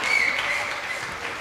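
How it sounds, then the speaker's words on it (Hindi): Women in a seminar audience clapping together, a brief burst of dense applause that starts strong and tapers slightly, with no voices on top. "एक जोरदार तालियां हो जाए महिलाओं के लिए।"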